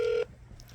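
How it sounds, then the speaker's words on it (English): A single short electronic telephone tone during a call, a brief steady beep that cuts off abruptly, followed by quiet line hiss and faint background noise. "Phone's still ringing."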